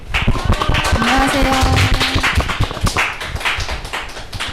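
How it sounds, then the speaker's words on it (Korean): A studio audience at a live public radio broadcast for a Seodaemun community care group claps in a steady, loud burst to welcome guests, with a person speaking a greeting over the applause. "박수로 맞아주시죠."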